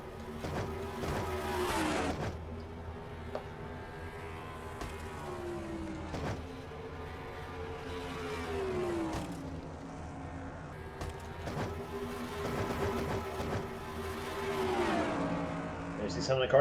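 Race cars on the Dover oval in a racing video game, engines droning and sweeping in pitch as cars pass in repeated waves, with a commentator talking over the engines throughout.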